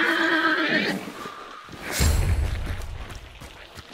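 A loud, drawn-out horse whinny opens the moment in the Hunt: Showdown video game, followed by a heavy low thud and fading rumble.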